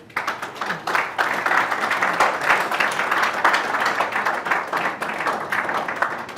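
Sustained applause from an audience at a WNBA draft ceremony broadcast, dense steady clapping that holds strong for several seconds and fades slightly at the end.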